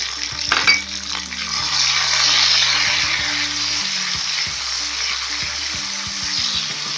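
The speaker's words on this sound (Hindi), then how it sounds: "प्याज हमारा गोल्डन ब्राउन हो चुका हुआ है। अब हम इसमें लहसुन अदरक का पेस्ट ऐड करेंगे।" Onion, garlic-ginger paste and tomato fry in a pan with a steady broadband sizzle, broken by a few stirring scrapes and clinks of a spoon against the pot.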